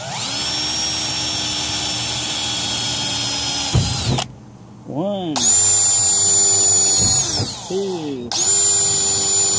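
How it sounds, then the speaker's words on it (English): A power drill with a very long bit bores holes through the sheet metal of a Boyertown step van, its high whine rising and falling in bursts with short pauses between holes while a voice counts aloud. "we're just going to cruise around here and drill the holes through the sheet metal"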